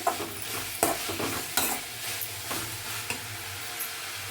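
Grated coconut is added to a capsicum rice mixture frying in a pan, with a continuous soft sizzle broken by several sharp scraping stir strokes, close and with no voices.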